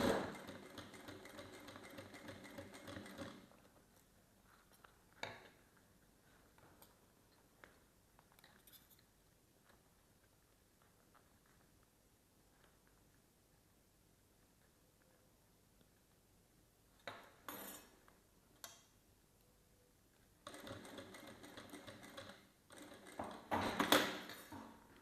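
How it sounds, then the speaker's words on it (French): Short bursts of sewing machine stitching along the fabric edge of a small coin purse come at the start and near the end, with a quiet stretch between and no talk. "on va venir coudre au bord du tissu"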